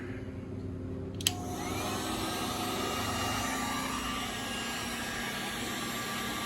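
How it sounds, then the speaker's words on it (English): A 1500 watt heat gun runs off a portable power station, giving a steady, even whooshing roar of fan and airflow after a sharp click as it switches on, continuing at constant level. "Give it a quick test here with this thing, 1500 watt heat gun."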